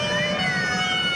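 Emergency sirens wailing during a fire drill at a factory, a loud steady tone with rising pitch sweeps, heard alone for a brief moment.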